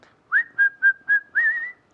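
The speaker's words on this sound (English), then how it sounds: "Sometimes I'm whistling." A person whistles a short tune of five clear notes, the last one drawn out and gliding, close and alone in quiet surroundings.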